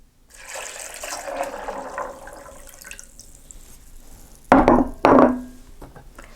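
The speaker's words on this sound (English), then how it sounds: "And we're going to add our water." Water pours into a blender holding almonds for homemade almond milk, a running, splashing stream that fades to a faint trickle before two short louder gushes near the end.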